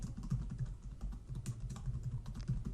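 A computer keyboard clicks softly and close by as someone types a macro name, a quick uneven run of keystrokes with brief pauses between them.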